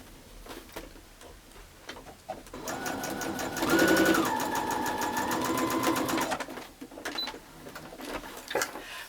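Sewing machine stitching the seams of a mini quilt block, a steady rapid mechanical run of a few seconds in the middle with quieter handling noises before and after.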